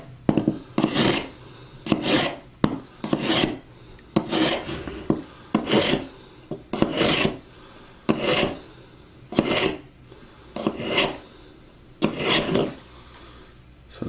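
A nicked knife edge is ground during sharpening, giving about a dozen rhythmic rasping strokes, each a bright scraping burst separated by short pauses. The strokes sit close and fairly loud with no talk.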